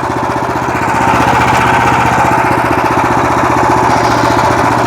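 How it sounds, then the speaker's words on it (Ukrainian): A WEIMA DELUXE WM1100FE-6 walk-behind tractor engine runs close and loud in first gear, a rapid, steady thumping chug throughout with no one speaking. "шановний Петро, давайте я зараз на зменшенні перейду, вмикаю першу."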